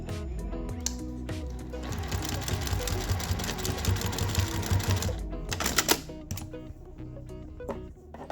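A sewing machine stitches over existing topstitching to hold elastic inside a face mask casing, running in one steady, fairly quiet burst of rapid needle clatter before stopping, followed by a few light handling clicks.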